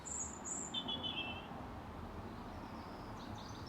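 Birds chirp outdoors on an electric trials motorbike ride, a few thin high tweets close together at the start, then fainter distant calls over a quiet hum of insects and open air.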